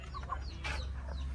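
A hen clucks softly in short, low calls close by over steady background hum, with no talking.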